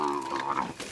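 A cow lows loudly and close as cattle are herded off a rural road in Panama, a single drawn-out moo with some faint background bustle.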